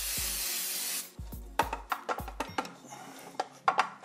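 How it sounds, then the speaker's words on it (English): Butter spray hisses into cake pans, a steady spray burst at the start followed by sharp metallic clinks and knocks of the pans being handled on a kitchen counter. "Butter spray so it doesn't stick."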